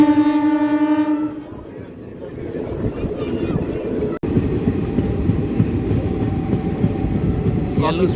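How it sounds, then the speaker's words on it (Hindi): A passenger train runs on the new Deoband–Roorkee line toward Deoband junction, its steady rumble and wheel noise filling the cabin after a long horn blast at the start, with a brief dropout midway. "और यहाँ पर हमारी ट्रेन अब देवबंद जंक्शन पर स्विच करने वाली है।"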